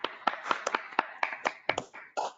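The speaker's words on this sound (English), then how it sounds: "Please have a big round of applause" A small audience at a World Pharmacist Day event claps for competition winners: sparse, distinct hand claps from a few people, uneven in rhythm, fairly close and quiet, with no talk.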